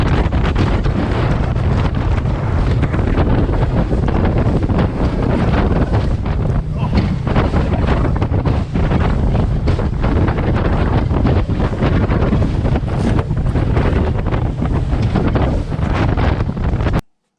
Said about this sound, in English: So the wind was up 15, 20 knots maybe.